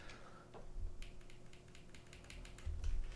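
Keys clack on a Mode Sonnet keyboard with a green Lattice mount and PC plate, a run of crisp, fairly even presses heard up close and alone.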